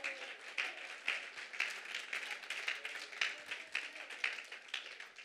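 A church congregation applauds, with steady, rapid, fairly faint clapping from many hands that continues without pause and without any talking.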